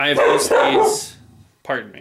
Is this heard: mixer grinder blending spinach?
no